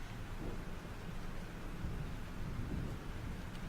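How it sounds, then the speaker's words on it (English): A thunderstorm in the video game Life is Strange: a dense, continuous wash of heavy rain with deep low rumbling throughout, steady and enveloping with no clear distinct thunderclaps. "This storm is real."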